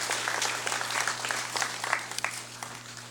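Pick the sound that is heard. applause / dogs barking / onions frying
applause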